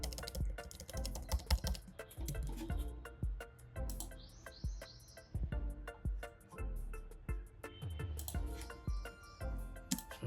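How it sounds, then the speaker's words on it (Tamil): Keys on a computer keyboard are tapped in quick, uneven bursts close to the listener, with brief pauses between runs and a few faint chirps in the background. "ப்ரோ டைப் பண்ணுறேன்."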